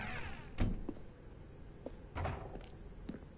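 A door opens in The Stanley Parable with a few quiet, separate thumps and clunks, soft and fairly close against a near-silent room.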